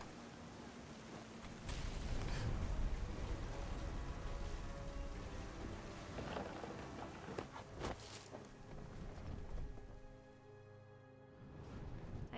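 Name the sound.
thunderstorm with rain in the video game What Remains of Edith Finch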